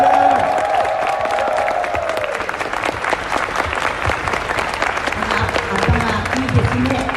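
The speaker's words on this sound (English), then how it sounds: "I want to hear a round of applause for the talent on stage." Convention panel audience breaks into loud, sustained applause with scattered cheers and whoops, while a voice speaks over it through the first couple of seconds.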